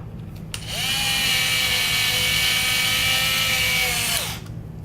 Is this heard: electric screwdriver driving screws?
yes